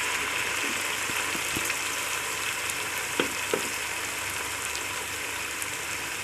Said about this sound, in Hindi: इसको भी साथ ही इसको थोड़ा सा भूनें।